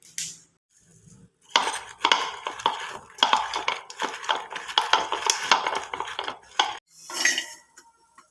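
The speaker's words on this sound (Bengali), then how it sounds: "সাদা তিল পোস্ত আর কাজু আমি শুকনো কড়াইতে একটুখানি ভেজে নেবো" White sesame, poppy seeds and cashews are dry-roasted in an oil-free wok, a spatula scraping and rattling against the metal in loud, busy bursts after a quiet start, with a brief pause near the end.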